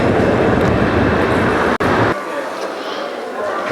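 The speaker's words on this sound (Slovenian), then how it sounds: "Vlaki vozijo eno nadstropje nižje pod mestom." Trains in the underground platforms of Copenhagen central railway station produce a loud, continuous rumbling roar that suddenly drops into a quieter hiss, like a carriage passing and fading.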